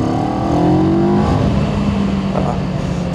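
A 2024 CFMOTO 700MT motorcycle engine runs smoothly at a steady, even drone, with constant wind rush over it throughout.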